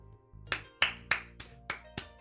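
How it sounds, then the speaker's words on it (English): Six sharp hand claps ring out from another room, evenly spaced with a slight echoing ring after each, over a faint low hum. "is also clapping from the other room"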